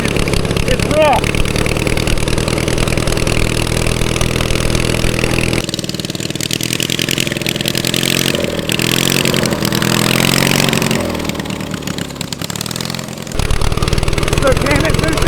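A 450cc twin-cylinder engine fitted to a push lawn mower runs loud and rough, close by, droning continuously throughout with shifts in pitch and load, while people talk over it.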